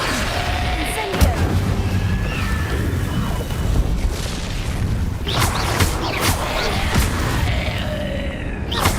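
Incendio fire spell cast in a wizarding video game, a dense rumbling whoosh of flames with booming bursts over a steady game soundscape, with brief voices in the background.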